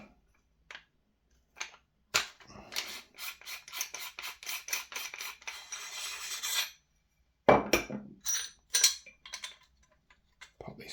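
A tool scrapes and rasps as it turns the barrel nut off a Marui MK18 airsoft rifle, close and quiet, coming in rhythmic bursts separated by silent gaps, with a louder scraping run near the end.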